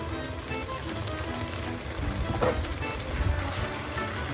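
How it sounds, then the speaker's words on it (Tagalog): Pinakbet vegetables with fried pork sizzle steadily in a pan as they are stirred, a constant close frying hiss with brief scraping and spoon sounds partway through. "Haluin natin ulit"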